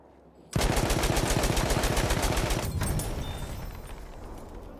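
An M1909 Benet-Mercier machine gun in Battlefield 1's Sinai Desert opens up suddenly with a long, loud, rapid burst of evenly spaced shots that holds steady and then slowly fades toward the end.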